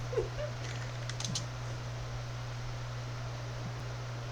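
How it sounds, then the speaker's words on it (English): Faint, quick keyboard typing sits beneath a steady low electrical hum and hiss, with a few soft irregular clicks near the start and little else. "Jason's typing again."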